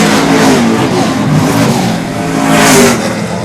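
Pro Stock race cars racing at Seekonk Speedway in 2009, with loud, close engines roaring and revving continuously as the pack comes off a corner, swelling again near the end, and no voices.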